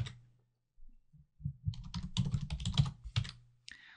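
Login details being typed on a computer keyboard, a run of quick, close key clicks in an uneven rhythm with a short pause partway through and a few stray taps at the start.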